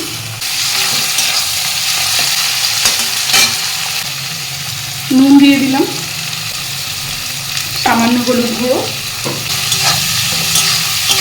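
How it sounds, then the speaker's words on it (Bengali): Shrimp fry in a pan with onion, garlic and green chili, a constant close sizzle with occasional stirring and scraping, while someone talks over the cooking. "আমি এই পেঁয়াজ আর রসুন লঙ্কার মধ্যেই চিংড়ি মাছটা দিয়ে দিচ্ছি"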